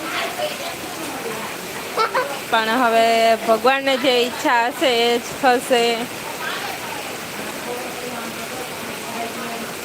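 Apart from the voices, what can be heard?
heavy unseasonal rain falling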